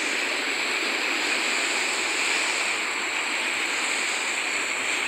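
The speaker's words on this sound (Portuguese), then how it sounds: "Cachoeira." A constant, dense rush of falling water roars without letup, broadband and steady throughout.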